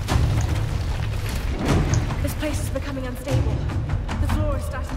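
Explosion in the Tomb Raider video game, a deep booming rumble with thuds running through the whole stretch, loud and dense, while someone talks excitedly over it.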